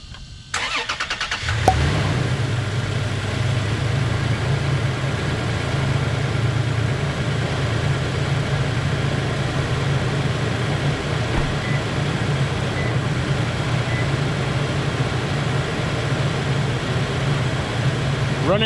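A 2019 Toyota Tacoma engine, just washed with degreaser, cranks and catches near the start, then settles into a steady, even idle that runs on for many seconds without talking.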